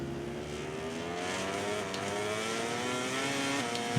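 A Honda MotoGP bike engine in MotoGP 18 revs hard, its high whining pitch climbing repeatedly through gear shifts, loud and steady with no voices.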